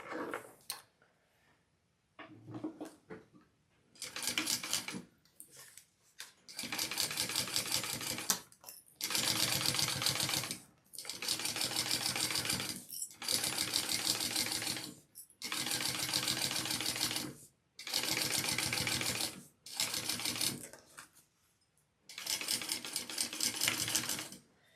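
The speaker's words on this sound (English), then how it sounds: "we are flipping that top band up and we are top stitching along the top band" Sewing machine topstitching along the folded-up top band of a handmade bag, running in about a dozen steady, loud bursts separated by brief pauses, with no talking.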